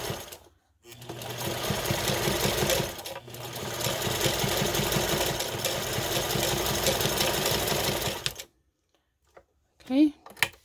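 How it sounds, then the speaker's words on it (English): A sewing machine runs in two rapid bursts of rhythmic zigzag stitching across a zipper end, close and steady, then stops; a brief voice follows at the end. "Zigzag back and forth on the zipper end."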